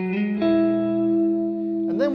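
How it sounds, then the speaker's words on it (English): Electric guitar strings struck with the right hand in a lesson, a single chord ringing out with lush reverb for about two seconds, then a brief bent note at the end. "come down on the strings, and you can hear that reverb"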